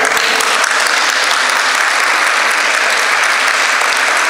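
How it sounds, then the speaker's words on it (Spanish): Loud, close applause from the audience at a breast cancer forum greeting the state governor, continuous dense clapping throughout. "para quien pido un aplauso"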